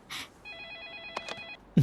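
A mobile phone rings with a bright, steady electronic tone that holds for about a second, framed by short bursts of noise and a thump near the end.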